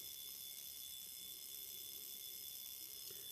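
A Zenith Pilot Doublematic wristwatch alarm sounds as a thin, continuous high buzzing tone that holds steady throughout, very faint and close, with no voices.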